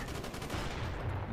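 Shotgun blasts in the PC shooter Call of Duty: Black Ops, a quick cluster of loud, sharp reports packed into the first half second, then a rough noisy tail of battle sounds.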